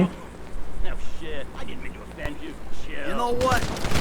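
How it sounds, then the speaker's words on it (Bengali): Gunfire in the video game GTA V: sporadic sharp shots crack amid game effects, with a heavier burst toward the end, under excited talking. "ও ভাই গুলি করতেছে রে গুলি করতেছে"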